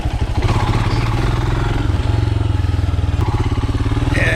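Royal Enfield Himalayan motorcycle ridden off road, its single-cylinder engine thumping steadily and loudly with a pulsing low rhythm, rattles and clatter over rough ground, and a brief rise in revs toward the end.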